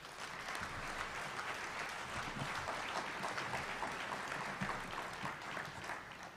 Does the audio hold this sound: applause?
yes